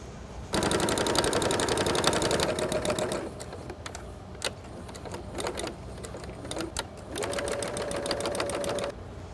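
A sewing machine stitches around the edges of puffed appliqué quilt fabric in fast rattling bursts, running steadily, pausing and clicking intermittently, then running again, close and alone.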